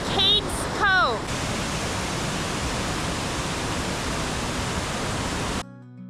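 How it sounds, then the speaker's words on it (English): Small roadside waterfall at the Sinks in the Great Smoky Mountains, a steady broadband rush of falling water holding for several seconds, with brief voices and a whistle-like chirp near the start before it cuts off. "It's a little waterfall off the road and it's on the way to Cades Cove."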